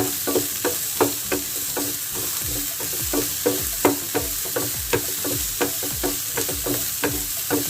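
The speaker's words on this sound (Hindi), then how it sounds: "प्याज को सौटे करेंगे।" Chopped onion sautéing over a high flame in a pan, a steady sizzle under repeated rhythmic scraping strokes of a spatula, close and fairly loud, with no talking.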